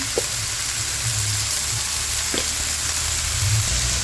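Bottle gourd shoots fry in hot oil with salt, giving a steady, close sizzle that runs unbroken throughout, with a couple of faint clinks from the pan or utensil.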